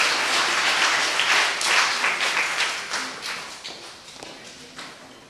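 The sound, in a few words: applause welcoming the head teacher to the stage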